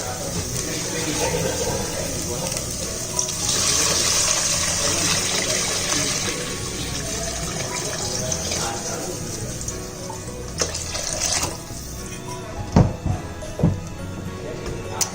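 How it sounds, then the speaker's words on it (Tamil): Water gushes steadily into a cooking pan of sautéed vegetables for several seconds, a continuous rushing splash, followed by a few sharp clanks and knocks near the end. "இப்போது இதில் தண்ணி ஊற்றிக்கலாம்."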